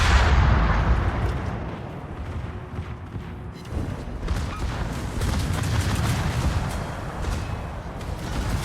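Main guns of the warship Napoli firing in a naval battle game, heavy rumbling booms that roll on continuously, with one louder blast and a thicker barrage later, loud and close.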